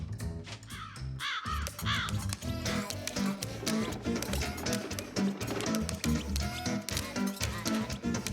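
Several cartoon crows caw loudly in a busy, dense mix over a steady background of other sound, the harsh calls repeating throughout.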